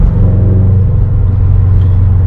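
A Subaru BRZ with a JDL unequal-length header and stage 2 tune accelerates in a straight line, its exhaust a loud, steady, deep rumble heard from inside the car.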